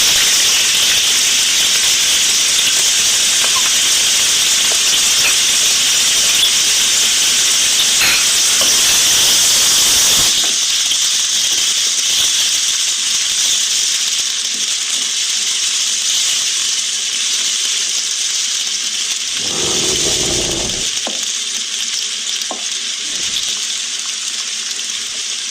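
Onions fried in a pot for mutton korma give a loud, steady broadband hiss that eases a little partway through, with a brief clatter of stirring near the end.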